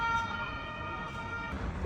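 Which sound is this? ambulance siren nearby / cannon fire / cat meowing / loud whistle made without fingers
ambulance siren nearby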